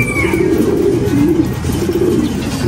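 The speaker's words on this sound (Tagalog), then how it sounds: "Ayan, lumabas na naman mga kalapatids." Pigeons cooing in a steady, continuous stream of low, throaty coos that overlap with no pause, fairly close and loud, with no one talking.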